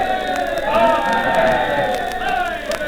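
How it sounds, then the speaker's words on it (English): Dense crowds cheer at the 1937 coronation procession of King George VI in London, a continuous roar of voices with scattered shouts on an old, hissy recording. "Procession passes through dense, packed, cheering crowds, to the music of the bands and the joyful clamor of the bells of London"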